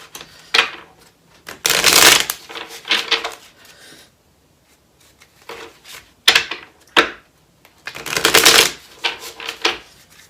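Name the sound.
shuffling a deck of tarot cards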